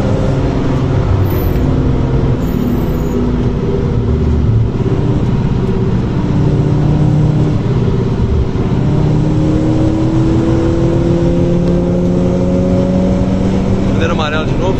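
A VW Scirocco lapping the Nürburgring holds a continuous engine roar from inside the cabin, the pitch climbing in long rising sweeps as it accelerates, with a passenger voice urging it on over the drone.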